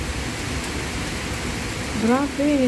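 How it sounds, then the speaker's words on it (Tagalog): Heavy rain from a black rainstorm in Tai Wai pours down in a steady, dense hiss throughout, and a voice begins speaking near the end. "Grabe talaga ang ulan dito mga inday, hindi tumitigil."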